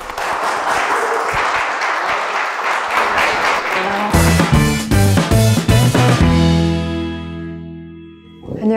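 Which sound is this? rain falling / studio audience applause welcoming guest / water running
studio audience applause welcoming guest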